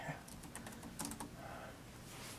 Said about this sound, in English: The keyboard's kind of a little mushy.